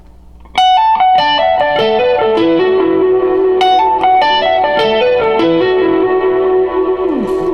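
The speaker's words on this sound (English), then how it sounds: "Now the delay is what makes this sound kind of tricky." An electric guitar plays a rhythmic run of notes through a delay effect, each note echoing and overlapping, steady and loud with no talking.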